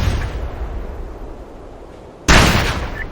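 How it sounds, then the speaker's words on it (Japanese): A sudden loud blast goes off in the PSP video game SOCOM U.S. Navy SEALs Fireteam Bravo 3, bursting out of steady low background noise and ringing on briefly. "了解、爆発するぞ。"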